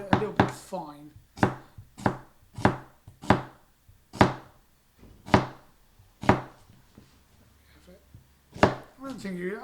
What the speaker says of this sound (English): you've got to cut it a little bit fine.